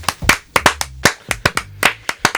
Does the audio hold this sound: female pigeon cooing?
no